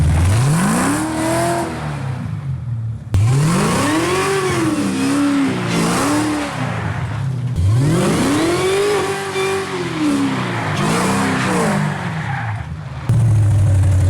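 A rebuilt 1967 Camaro with a swapped LT4 engine driving on the road, loud and close, revving hard through repeated rising acceleration pulls and gear changes, with a short break between runs.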